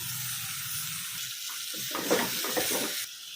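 Mutton pieces hit hot masala in a pan over high flame. A low, steady sizzle breaks into louder crackling bursts and stirring scrapes partway through, heard close and without talk.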